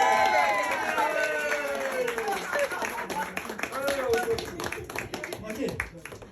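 Wedding guests clap together in a steady crowd patter that holds strong, then thins and fades toward the end, with voices and a few whoops mixed in.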